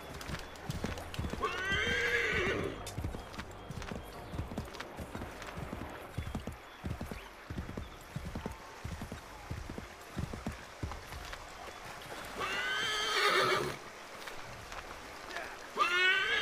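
In Assassin's Creed III Remastered, a horse whinnies twice, early and again near the end, while hooves clip-clop steadily throughout, with some talking mixed in.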